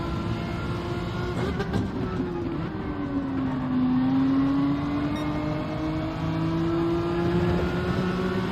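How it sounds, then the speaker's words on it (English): A car engine in Gran Turismo 7, revving hard and held against the rev limiter, a steady buzzing drone that wavers in pitch over several seconds, moderately loud, with no talking. "Oh, I hit the rev limiter."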